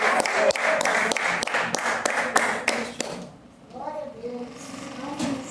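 Applause from a congregation in an evangelical church, a few seconds of brisk clapping with sharp individual claps standing out, then fading as a voice begins speaking.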